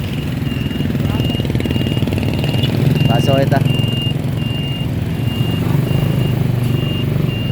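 Busy street traffic at a public market in Cataingan, Masbate: steady engine rumble and idling vehicles with a repeating reversing beep, a brief horn-like blare in the middle, and people talking over it.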